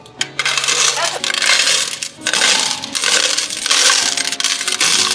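Coins being counted, dense loud jingling and clattering of metal coins poured and shuffled in repeated surges, close up, with a voice briefly audible.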